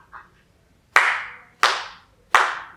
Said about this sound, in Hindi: अरे तालियां क्यों?